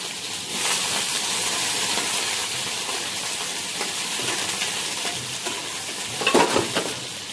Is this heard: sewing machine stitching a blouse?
no